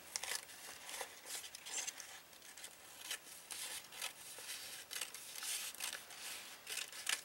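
Scissors snip a torn piece of paper for a junk journal craft, a quiet, close series of crisp cuts and paper rustles with no talking.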